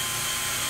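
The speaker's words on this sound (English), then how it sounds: "we're just going to take our drill and drill through the holes that are already there" A power drill whines steadily at high speed, driving through pre-drilled holes in a solid pine Adirondack chair kit. The sound is a brief, loud, continuous burst.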